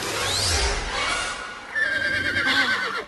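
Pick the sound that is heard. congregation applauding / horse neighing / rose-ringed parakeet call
horse neighing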